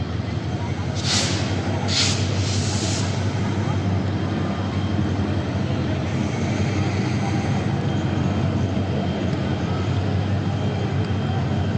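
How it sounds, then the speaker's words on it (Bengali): The Upakul Express passenger train is backed up slowly along the track during a student blockade. It makes a loud, continuous low rumble with a few short hissing bursts early on, under a noisy crowd. "এই মুহূর্তে কিন্তু ট্রেনটি পেছনের দিকে নিয়ে যাওয়া হচ্ছে"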